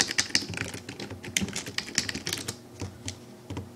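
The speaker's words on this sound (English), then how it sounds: "So then you're gonna type in hopper bin tools." Fast typing on a computer keyboard, a close run of crisp, irregular key clicks and taps with no talking.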